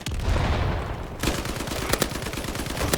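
Rapid bursts of gunfire in a World War II shooter game, with sharp repeated shots and a heavy boom, dense and loud throughout with no pause.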